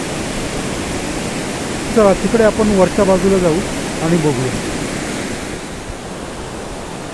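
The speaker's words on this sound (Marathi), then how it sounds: "हे जे काही सगळं पाणी आहे ते पाणी या गोमुखातून निघणारच पाणी आहे असं नाही त्याच्यात वरून डोंगरावरून येणारं पाणी पण आहे" Mountain stream and spring water pour steadily downhill near Gomukh in a steady, broadband rush. A person talks briefly over the flow partway through.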